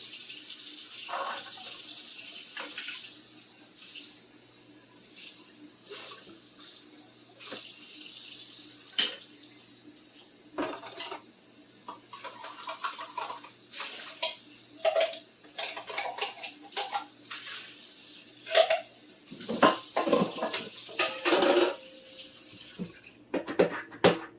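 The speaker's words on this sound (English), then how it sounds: "I'm going to continue to open all the cans and drain and rinse." Canned beans drained and rinsed under a running kitchen tap for a ham and bean soup with chickpeas, a steady close stream of water broken by clinks and knocks of cans and metal against the sink, with no talk.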